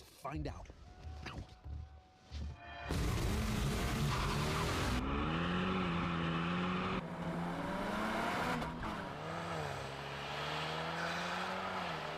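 A Mazda with four-wheel drive accelerates hard in a speed test, a loud sustained engine roar rising in pitch through gear changes after a brief quieter opening, close and continuous.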